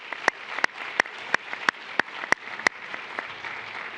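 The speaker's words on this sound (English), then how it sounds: "let's give this team a round of applause" Audience applause for a competition-winning team at an event, a room of clapping with a few sharp, loud nearby claps standing out over a softer, steady patter from the crowd.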